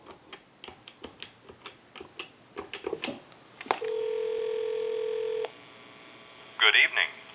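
A quick series of clicky button presses on a converted Mickey Mouse telephone, then a steady phone tone holds for a second or two, followed by a couple of short electronic beeps.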